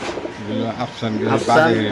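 A pair of caged pigeons coo close by in a brief, soft burst at a pigeon market, with a person talking over them.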